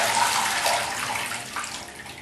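Tap water pours steadily over aquarium substrate as brown soil is rinsed out, a close, continuous splashing hiss that softens slightly toward the end.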